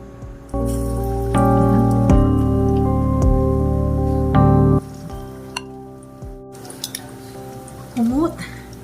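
Sliced sweet potato (kamote) dropped into hot oil, a loud bubbling sizzle that starts abruptly, then settles into softer crackles and pops with occasional clatter of a utensil.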